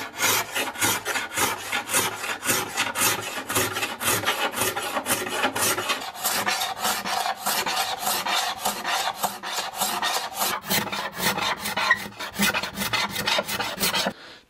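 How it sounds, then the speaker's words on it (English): A card scraper rasps over an old shellac finish on an antique wooden tea cart, a close, steady run of rapid, even strokes repeating without pause throughout. "Once you find the angle in the card scraper,"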